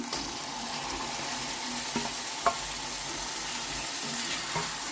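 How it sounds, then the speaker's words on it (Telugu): Tomatoes hitting a pan of frying fenugreek leaves for a fenugreek-tomato curry give a steady close sizzle, broken by a few light clinks and stirring scrapes. "ఇప్పుడు ఈ స్టేజ్లో టమాటాలు వేసేస్తున్నాను"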